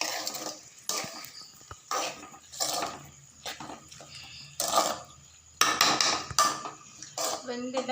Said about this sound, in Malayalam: ഇനി മൂടി വെക്കാൻ പോകുകയാണ്.